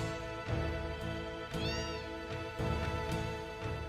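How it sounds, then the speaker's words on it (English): Cats meow repeatedly in a cat-filled house in the video game Final Fantasy VII, several drawn-out meows rising and falling over steady game background music, clear and moderately loud with no talking. "Kitties. It's a kitty house."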